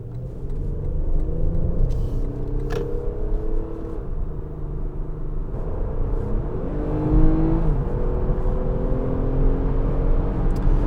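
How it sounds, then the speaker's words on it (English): Steady low road rumble and tire roar fill the cabin of a 2019-2021 Lexus ES 350 F-Sport at highway speed, with a smooth engine hum that swells slightly partway through. "I take it out on the highway. Let's see how the road noise is."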